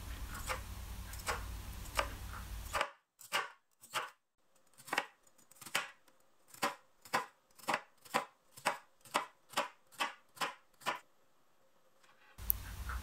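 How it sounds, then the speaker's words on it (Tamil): A knife slices through firm bitter gourd on a board, about fifteen crisp, evenly spaced cuts in a steady rhythm, close and clear. "எல்லாமே ஒரே அளவா இருக்கிற மாதிரி வெட்டிக்கோங்க."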